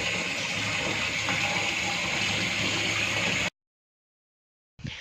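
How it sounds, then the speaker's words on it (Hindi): Steady rushing water filling a household washing machine, loud and close, continuous for several seconds before cutting off abruptly, then briefly resuming. "मशीन लगाने के लिए पानी चल रहा है मशीन में"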